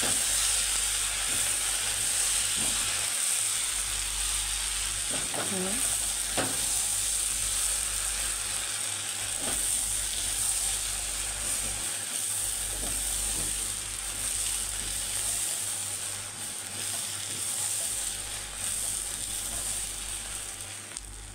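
Peppers go into a pan of frying garlic, giving a steady, close sizzle with a hissing, steamy wash and a few soft scrapes and clicks in the first half, continuing without any talk.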